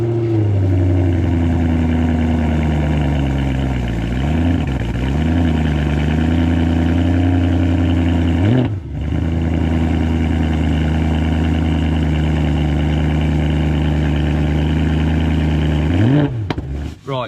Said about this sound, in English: already on cold start this thing sounds so good